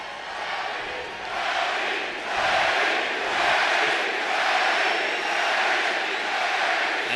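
A boxing arena crowd roaring as Manny Pacquiao enters for his fight with Timothy Bradley, a dense wash of cheering that surges in waves and stays loud throughout.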